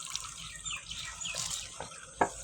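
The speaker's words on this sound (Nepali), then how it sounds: "यहाँ मैले अघिदेखि पानी भरेको भरिने मान्दैन" Water runs from a tap into a container in a village, a faint, steady trickle and splash with a brief louder splash near the end.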